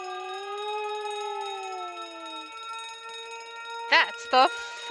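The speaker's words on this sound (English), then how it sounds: "That's the alarm." Alarm sounding on a ship in The Great Ace Attorney Chronicles, a sustained layered siren-like tone that gradually shifts, followed by a few short chirping bursts near the end.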